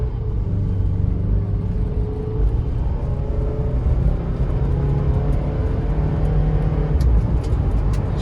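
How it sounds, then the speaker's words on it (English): A car accelerates on snow at moderate throttle while its transmission shifts up through the gears, giving a steady engine rumble with subtle pitch changes that continues throughout. "Let me get on a little harder acceleration here, because that's when I really noticed some harsh upshifts."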